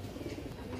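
Male pigeon with silver markings cooing softly and close by, one short low burst over faint background noise.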